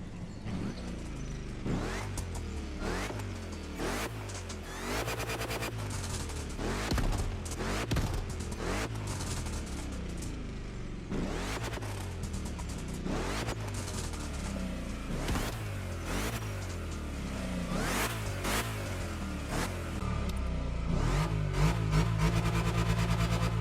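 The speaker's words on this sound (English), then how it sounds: "the 632 has a crazy sounding V8, and I do believe you can also slightly hear like the supercharger" A Chevrolet Camaro's supercharged big-block 632 V8 rumbles deep and loud, revving in repeated bursts with sharp crackling pops between revs and a faint high supercharger whine, close and continuous.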